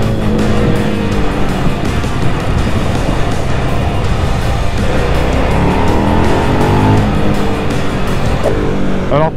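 A KTM Duke 990 motorcycle accelerates hard out of corners with throttle fully reopened, its engine note loud, close and constant, rising and falling in pitch with rough, jerky surges.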